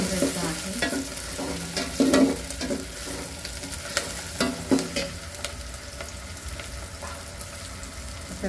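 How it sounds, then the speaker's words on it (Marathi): Tomato sautéing in a pan for a Maharashtrian mutton curry, with steady frying sizzle under repeated scraping and stirring strokes of a spoon, close and moderately loud, no talking. "हे परतून घ्यायचं आहे।"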